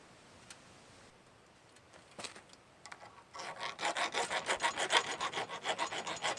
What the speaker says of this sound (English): I had a few burrs on the inside where the handle will be fitted, so I'm just taking those off of a file